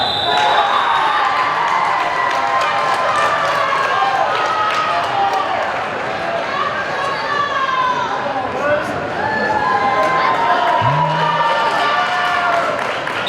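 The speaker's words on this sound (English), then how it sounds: "Crowd a little loud there." A loud crowd at a high school wrestling district finals roars and cheers steadily, with shouts and whistles rising and falling, while a commentator talks over the din.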